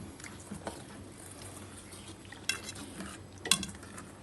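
A spoon swirls a softened gelatin mixture in a bowl to dissolve it for panna cotta, giving quiet, steady scraping and faint liquid swishing with two sharper clinks of metal against the bowl.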